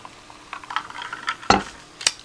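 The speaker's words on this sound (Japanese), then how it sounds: "ジュージュー言うてるわ。" Cream croquettes grilling over a stove, giving soft crackling sizzle with a few sharper pops and clinks of cookware, close and fairly loud, with no talking.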